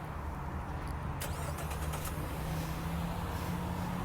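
A 2016 Jeep Renegade with its 2.4 liter TigerShark MultiAir engine, remote-started, idles steadily and close by with a low hum running throughout, a few faint clicks near the start.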